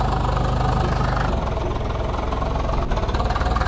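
A tractor engine in Farming Simulator 22 runs steadily with a low, knocking idle rumble, continuous and loud throughout.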